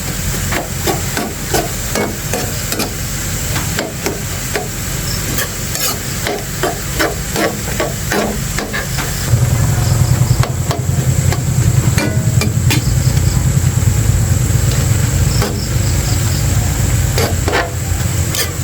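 Vegetable lumpia filling sizzles and hisses steadily while frying in a pan. A spatula clanks and scrapes rhythmically against the pan, and the frying grows louder partway through.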